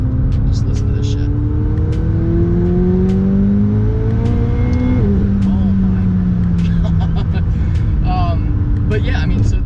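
A McLaren 720S engine revs up in a rising sweep, drops off sharply midway, then builds again, loud and close, while people talk over it.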